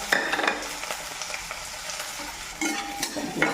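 Onion sizzles in a hot pan under frequent stirring, with a crackling frying bed broken by sharp scrapes and clinks of the utensil, close and without talk.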